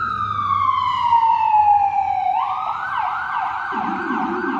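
A loud, close emergency vehicle siren holds a long slow falling wail, then switches abruptly to a fast warbling yelp, with a low horn-like tone joining toward the end.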